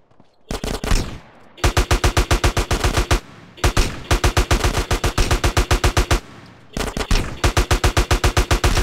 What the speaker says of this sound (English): They start shooting at you.